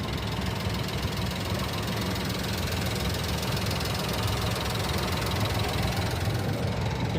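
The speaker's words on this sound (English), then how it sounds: "You can hear the engine running." A Honda Z car engine idles close by with a steady, even low rumble and faint mechanical knock, unchanging throughout with no voices.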